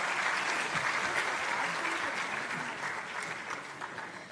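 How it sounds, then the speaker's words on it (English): Steady applause from the audience at a tourism summit in Punjab, a dense, even wash of clapping that holds for several seconds and fades slightly toward the end. "I would request a huge round of applause for this vision and his thought."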